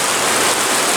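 Heavy rain pouring down outdoors near a chicken pen, a dense, loud, unbroken wash of hissing noise with no voices.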